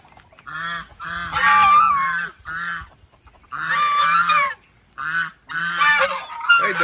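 Ducks in a rural backyard in Camiling, Tarlac, Philippines, loud harsh honking and quacking calls coming close and in repeated bursts with short pauses between them.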